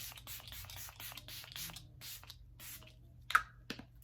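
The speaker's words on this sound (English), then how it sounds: "I'm going to be using the Catrice Long Lasting Prime and Fine Multi-Talent Fixing Spray" Catrice Long Lasting Prime and Fine Multi-Talent Fixing Spray is misted in a quick run of short, close hissing spritzes, several in a row, then a pause and a couple of final pumps.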